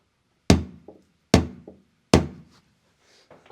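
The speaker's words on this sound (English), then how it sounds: "So you can hear how much more of a dead thud it is, which means it's not going to ring when it's raining." Three knocks on a van's metal wall panel covered with sound deadening mat, each a dull thud with a short bounce, evenly spaced and close, with faint rustling afterward.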